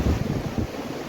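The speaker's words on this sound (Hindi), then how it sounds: "बहुत ठंडी हवा चल रही है यहाँ पे" Cold mountain wind at Kedarnath buffets the microphone in a steady, loud rumbling roar with gusty swells throughout, and no voices.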